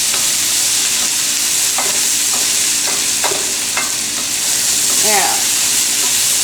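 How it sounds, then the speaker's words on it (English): Vegetables for a vegan stir-fry sizzle steadily in a wok while a utensil scrapes and tosses them in several distinct strokes, and a voice speaks briefly. "great thing about a wok is it just evenly cooks, even up at the sides, but you do have to keep it moving."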